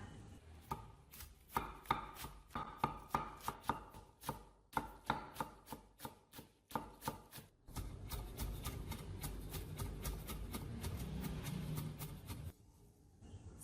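A knife chops green onions rapidly on a cutting board, a quick run of sharp, close taps that shifts into dense, continuous mincing before stopping.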